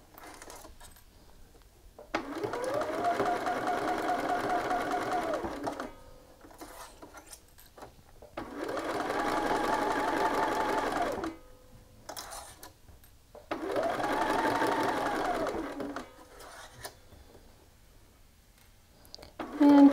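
A sewing machine stitches a seam through a shirt sleeve placket in three steady runs of a few seconds each, separated by pauses, close and fairly loud.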